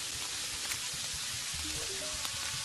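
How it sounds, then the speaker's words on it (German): Rain in the video game Terraria falls as a dense, steady hiss, with faint low thumps and tones from the game mixed underneath. "Der Regen ist lauter als der zweite Nuklearkrieg."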